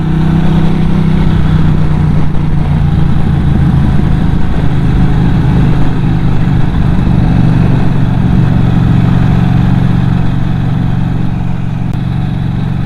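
A Norton Commando 961 SP motorcycle engine gives a loud, steady low growl and rumble, a continuous close-up drone that holds without a break, no voices over it.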